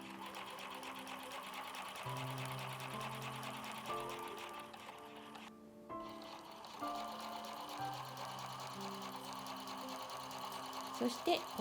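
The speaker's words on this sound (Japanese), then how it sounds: "そして最初にこのカバン入れ口をミシンで縫います。" A sewing machine stitches the opening of a handmade hexagon patchwork shoulder bag, giving a steady, continuous mechanical whir that runs through the whole stretch, close and fairly loud.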